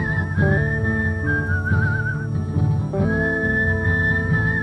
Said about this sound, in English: I wish I could whistle this well.